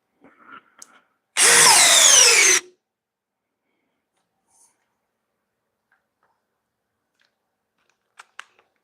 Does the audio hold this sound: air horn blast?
no